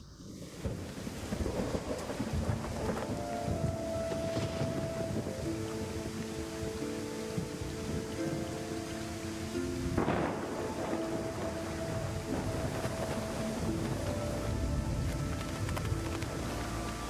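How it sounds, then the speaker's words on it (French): Steady heavy monsoon rain roars throughout, with a rumble of thunder swelling near the middle; faint tonal hums drift beneath the downpour. "Les moussons sont arrivés."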